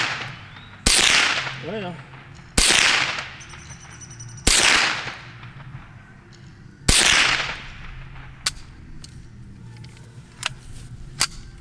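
A Ruger 10/22 semi-automatic .22 rifle fires four sharp, well-spaced shots, each with a quick ringing echo outdoors, followed by fainter metallic pings as rounds strike steel plates; someone speaks briefly.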